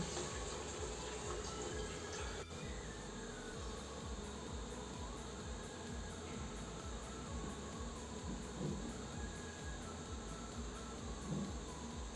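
A concealed İdevit toilet cistern refills after its valve is opened, giving a faint, steady hiss and trickle of water that runs unbroken and fairly distant.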